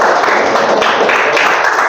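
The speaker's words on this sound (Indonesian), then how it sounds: "Tepuk tangan." A classroom of students claps hands together in a steady, close, loud burst of applause lasting the whole moment, with no voices over it.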